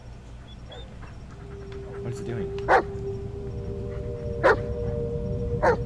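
A pet dog out in the woods barks a few sharp times, with three distinct yaps spaced across the clip over steady background hiss, while a person briefly speaks.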